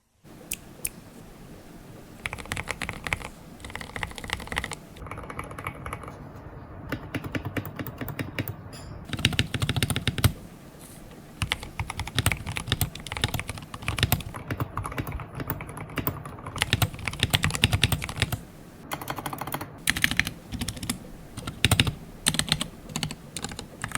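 Fast, continuous typing on a modded MageGee 61 mechanical keyboard, crisp clacky keystrokes in bursts close up, with short pauses between runs.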